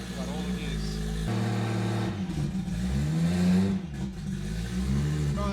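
A Toyota Supra engine revs up and down while running through the gears on a lift, with a loud, close, mid-pitched drone rising and falling, and a voice is briefly heard over it.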